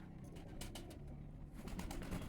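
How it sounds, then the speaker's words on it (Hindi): Pigeons coo softly nearby in a quiet setting, low throaty calls repeating unevenly against faint background noise. "दो कबूतर इकट्ठे बैठे हैं मेरे पास"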